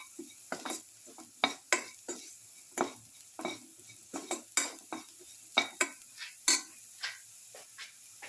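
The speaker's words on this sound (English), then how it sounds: "A half spoon of spice mix. Thoroughly salt. Salt and mix." A spoon scrapes and clinks against a pan as a spiced tomato and rice mixture with salt is stirred, giving a steady run of sharp strokes over a faint sizzle.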